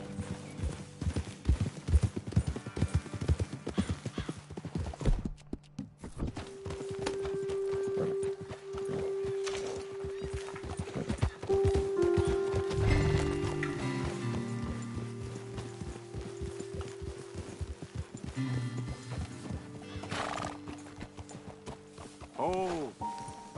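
Horses walking outdoors on a wild-west trail, hooves clip-clopping in a steady uneven rhythm close by, with a person talking over them now and then.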